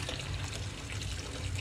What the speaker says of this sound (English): We just give it a good rinse so that all the bubbles are out.